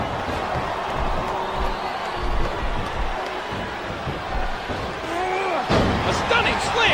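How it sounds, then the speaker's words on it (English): In a wrestling video game, a wrestler's body slam lands with heavy thuds on the ring canvas amid crowd noise, as a commentator talks over the action. "A stunning slam, knocking the wind out of his opponent."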